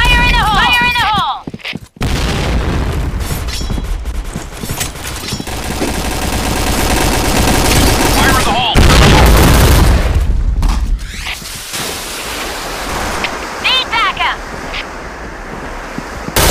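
Loud grenade blast and gunfire from the Point Blank shooter game, with heavy booms and rapid shots rolling over a sustained roar, broken by brief drops to near silence, while a voice calls out over the action.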